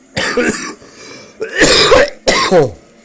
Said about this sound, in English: once in a while you will have to bear with my coughing